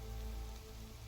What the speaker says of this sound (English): I don't think I ever saw it rain in this game until right now.